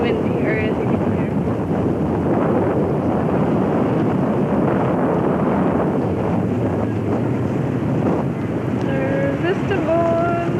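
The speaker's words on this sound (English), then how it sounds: "You can see it's windy, or as you can hear." Strong wind buffeting the microphone at the port in Istanbul, a loud continuous rumbling roar throughout, with faint voices and birdlike chirps surfacing near the end.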